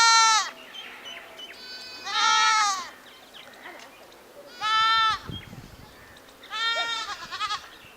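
Several sheep bleat close by near the Musi River in Hyderabad, four long wavering calls spaced a second or two apart, with quiet outdoor background between them.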